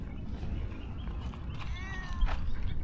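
A stray cat meows once near the end, a short, clear cry over steady low background rumble in an outdoor park.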